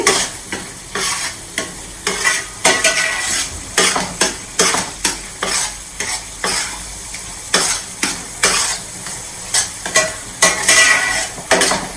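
Onion, ginger and garlic fry in a pan with a steady sizzle while a utensil repeatedly scrapes and knocks against the metal in irregular bursts of stirring, close and fairly loud, with no speech.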